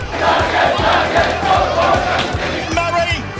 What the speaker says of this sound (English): Some of the Bunnies fans are standing and applauding as their team is returning to form